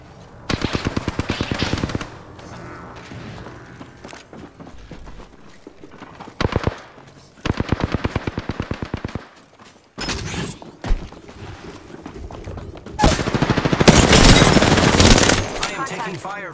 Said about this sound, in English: I am taking fire, friends. Hostile close. Opening fire on the enemy.